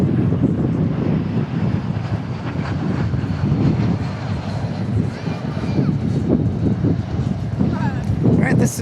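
An Airbus A321 arriving at DFW airport on a south-wind night, its engine roar a steady, loud rumble under wind buffeting on the microphone, with a person talking throughout.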